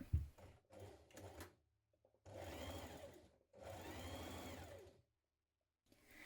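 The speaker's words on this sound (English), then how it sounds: "We're going to stitch around the pocket and then we're going to edge finish it." A sewing machine stitches around a dress pocket in several separate bursts of fast mechanical whirring, with short pauses between runs, close and fairly quiet.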